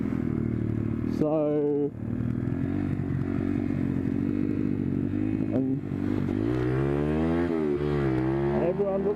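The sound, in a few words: pit bike with aftermarket exhaust riding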